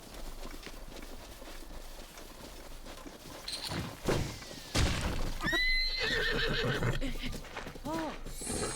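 A horse in The Legend of Zelda: Breath of the Wild whinnies loudly twice in the middle stretch, with clip-clop hooves and game sounds around it and someone talking over parts of it.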